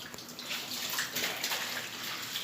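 Running water splashes steadily as someone washes in a household bathtub, a continuous hiss at close range with no talk.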